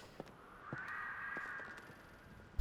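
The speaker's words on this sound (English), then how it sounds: "Bird calls." Bird calls in a puzzle video game, a crow-like cawing sounding repeatedly at moderate level over a soft ambient bed, with a few brief clicks scattered through and a sharper knock at the end.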